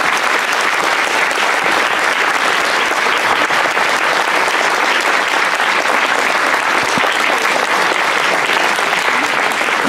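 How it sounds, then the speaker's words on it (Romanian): A church audience applauds warmly for an honored teacher, giving loud, dense and sustained clapping from many hands that fills the whole stretch without pause. "o invit să se ridice, să o aplaudăm cu căldură"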